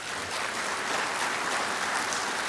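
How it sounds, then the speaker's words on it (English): An audience at an electric power cooperative's annual meeting gives the board a round of applause: a dense, even wash of many hands clapping, moderately loud and steady throughout, with no voices over it. "let's take an opportunity to give our board one more round of applause"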